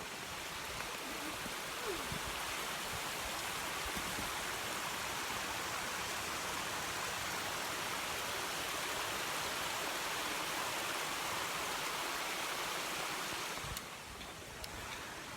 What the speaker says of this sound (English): Ooh, look at this waterfall.